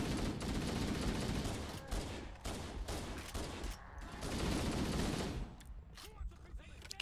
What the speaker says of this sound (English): I hear all the gunfire.